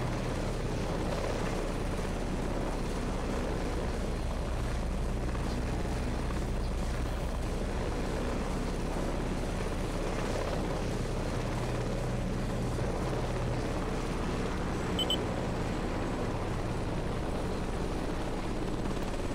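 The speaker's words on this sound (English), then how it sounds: "Uber chopper." Helicopter rotor in the combat game Heliborne, a constant loud thrumming whir with engine drone that holds steady throughout, with no voices over it.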